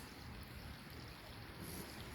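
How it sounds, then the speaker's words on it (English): A creek trickles in a botanical garden, a steady, soft wash of flowing water that runs throughout with no voices. "the creek is trickling"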